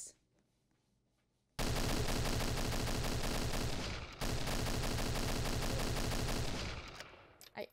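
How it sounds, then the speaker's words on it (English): Rapid automatic gunfire in a Roblox shooter game aimed at the player on their own base, loud dense bursts starting abruptly after a quiet moment, briefly pausing, then continuing before trailing off. "can this person stop trying to shoot me on my own base"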